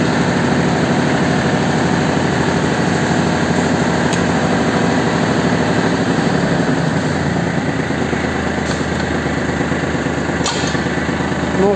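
A Kubota GL260 mini tractor fitted with a front loader runs steadily nearby, a loud continuous engine drone with an even low rumble and no breaks.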